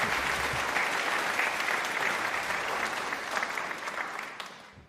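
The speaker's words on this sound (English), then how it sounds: "Under your applause." A conference audience claps continuously in a dense, sustained wash of applause that stays full and steady before cutting off abruptly at the end.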